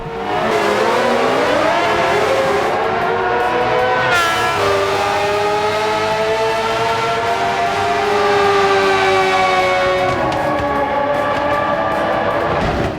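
A loud V12 engine of a 1990s Formula 1 car in Gran Turismo 7 at Yas Marina roars continuously, its pitch sweeping up and down through gear changes.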